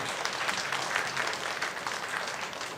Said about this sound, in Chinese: 我们给我们教会这么热血的青年一个掌声